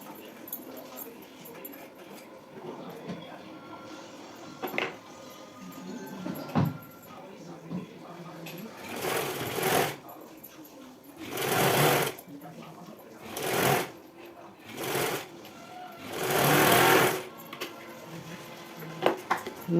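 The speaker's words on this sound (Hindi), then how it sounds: "एक सिलाई और कर दूंगी ऐसे ही।" Sewing machine stitching a blouse in short bursts of rapid clatter separated by pauses, fairly close, with quieter handling sounds in between.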